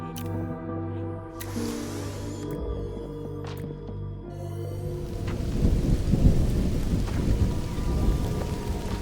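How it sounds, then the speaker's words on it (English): Rain falls in the video game Mind Over Magic, starting softly under a tonal musical backdrop and then swelling into a heavy, crackling downpour with rumbling, thunder-like low noise in the second half. "Okay, rain is falling."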